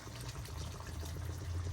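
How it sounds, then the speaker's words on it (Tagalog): Water is poured into pork cooking in a pot for dinuguan, a steady close splashing pour running throughout with no talking. "ato siya dungagan og tubig gamay"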